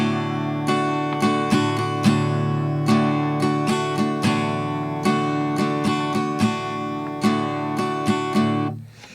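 An acoustic guitar strums the chord progression of a song in a steady, rhythmic pattern of crisp strokes for about nine seconds, close and clear with no voice, ending as the strings are damped.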